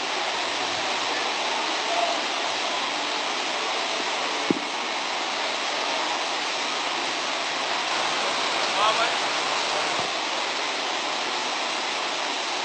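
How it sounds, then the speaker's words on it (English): Heavy torrential rain pours down over an outdoor Independence Day parade, a steady, dense hiss throughout with a couple of faint knocks. "they withstood heavy torrents of rain that blessed the occasion"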